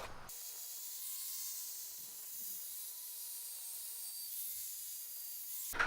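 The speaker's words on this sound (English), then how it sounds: "I'm gonna spray it with some paint so it doesn't get all" A steady aerosol hiss of black spray paint onto a metal part runs almost continuously for several seconds, close and even, then cuts off at the end.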